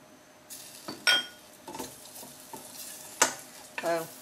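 A spoon stirs garlic into peanut satay sauce in a pan on the stove, giving scattered scraping clinks and soft sizzling in short irregular bursts, close and without talk.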